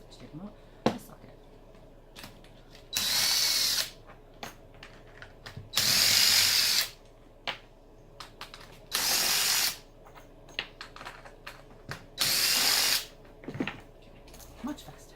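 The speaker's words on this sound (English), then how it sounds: "So I'm going to go ahead and use a drill now" A power drill drives screws into an HDPE resin form in four loud whirring bursts of about a second each, separated by quiet gaps with small clicks and handling noises.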